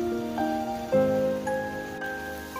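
Steady rain patters through a woodland walk at Glamis Woods, a constant soft hiss sitting beneath sustained musical tones, with no voices.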